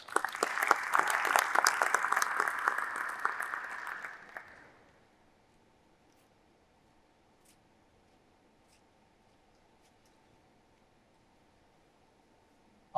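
Audience applause welcoming a panelist, Engineer Thamer Al-Saadi, to a panel discussion: a loud burst of clapping for about four seconds that quickly fades out, leaving a quiet room hum.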